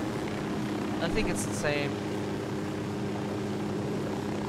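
An airplane engine in the Ghost Recon Wildlands video game drones at a steady, even level, with players talking briefly over it.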